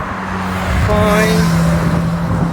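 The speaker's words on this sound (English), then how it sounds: "The traffic is insane." Road traffic in the Peak District, a continuous close roar of cars passing by with an engine hum swelling in the middle, and a brief spoken word.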